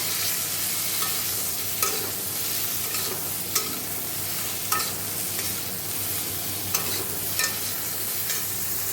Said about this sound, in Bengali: আর এখানে ফুলকপি ভাজা হচ্ছে